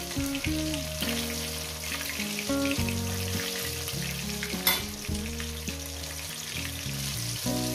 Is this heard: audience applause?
no